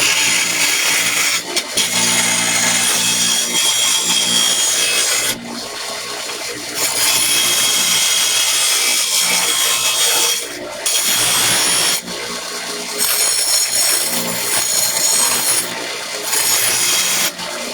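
A grinder works loudly and continuously to take off rough material, its harsh abrasive rasp pausing briefly a few times before starting again.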